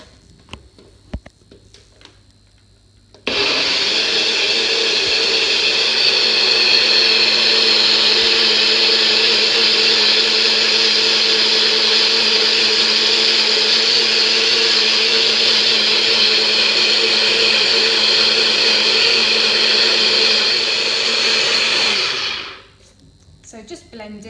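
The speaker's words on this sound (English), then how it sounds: "we're going to put the lid on and we're going to blend it" A blender runs continuously at high speed, whirring loud and steady for about twenty seconds as it purées chocolate paleo protein pancake batter with almond or coconut milk, starting abruptly and cutting off near the end.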